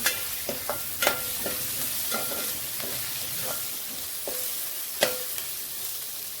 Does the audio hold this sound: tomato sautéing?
yes